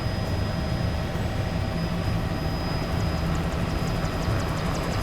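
Helicopter flying over the Kenyan bush during a rhino darting operation, a steady loud rotor and engine drone heard close and continuous throughout.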